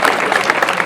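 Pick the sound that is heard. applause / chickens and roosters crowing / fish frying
applause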